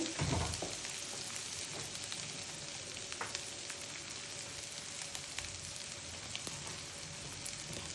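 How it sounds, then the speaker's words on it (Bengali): Chopped carrots fry in a pan over lowered heat while egg noodles are being made, producing a soft, continuous sizzle with scattered small pops and crackles. "তো গাজর কুচিগুলো এখন দিয়ে দিচ্ছি।"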